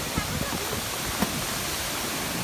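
Water pours down a waterfall at Savatsada near Chiplun in the Konkan, making a continuous close, loud broadband roar with no pause.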